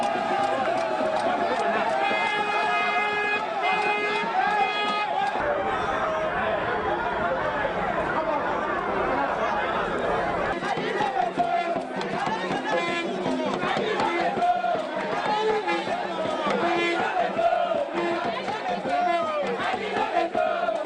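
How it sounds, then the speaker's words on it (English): A jubilant crowd gathers outside a palace in Kogi State, Nigeria, chanting praises in the local language, with layered voices, shouting and chatter blending into a continuous busy roar that stays loud throughout. "The jubilant crowd were heard chanting praises in their local language"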